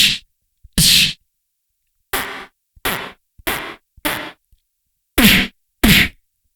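Beatboxed snare hits run through a reverb effect on a Boss RC-505 loop station: eight sharp, breathy bursts spaced irregularly, each trailing a short wash of reverb, close and loud with silence between.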